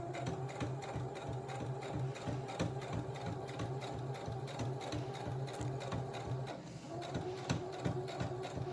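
A sewing machine stitches a welt zipper for a bag lining, running a steady, close mechanical whir with rapid needle ticks throughout, pausing briefly for a few reverse stitches before carrying on forward.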